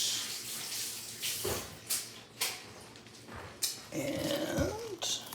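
A large head of bok choy being rinsed under running tap water, with bursts of splashing and flowing water broken by short pauses and handling noises, close and fairly loud.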